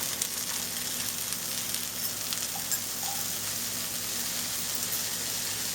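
Frozen broccoli frying in a pan, a steady, even sizzle that carries on without pause, fairly soft and close, with no voices.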